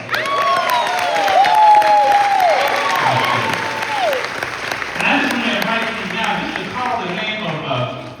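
A crowd at a graduation ceremony claps and cheers steadily, with a loud voice calling out over the applause before the clapping thins out.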